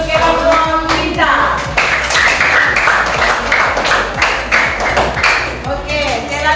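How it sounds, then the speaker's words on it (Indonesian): A classroom group of students claps for their team, a dense burst of applause through the middle with voices talking over it. "Semua tepuk tangan untuk kelompok kita."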